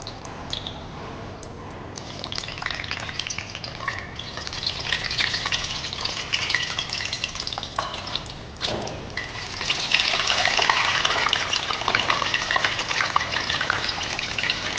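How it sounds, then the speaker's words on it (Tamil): Eggs deep frying one at a time in hot oil for an egg gravy, giving a steady, close sizzling hiss that swells louder and denser in the second half with no talking. "இதில் நம்ம முட்டையை ஒன்று ஒன்றா விட்டு பொரித்து எடுக்க போகிறோம்"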